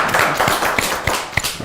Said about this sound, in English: Can you please clap for yourself, please?